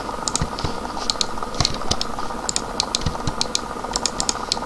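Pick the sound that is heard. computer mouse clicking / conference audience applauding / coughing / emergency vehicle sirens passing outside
computer mouse clicking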